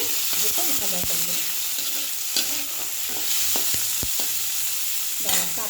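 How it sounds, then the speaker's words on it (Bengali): Shrimp and onion fry together in a pan, with a steady loud sizzle throughout and repeated scraping knocks of a spatula stirring them, close up and with no talking. "পেঁয়াজ আর এই দেখো চিংড়ি মাছটা ওর মধ্যে দিয়ে দিলাম, দিয়ে একসঙ্গে দুটো ভাজা করবো"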